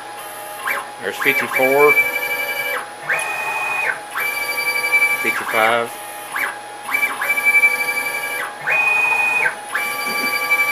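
A 6040 CNC machine engraves dog tags held in a fixture, its spindle whining in repeating tonal passes with motor movements between them, loud and close, while a voice briefly counts.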